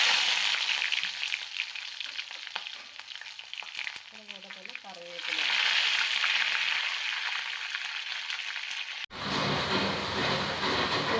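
Garlic fries in oil after mustard seeds have popped, making a dense, loud sizzle that swells partway through. A short voiced sound breaks in midway, and the sizzle cuts out briefly near the end before resuming.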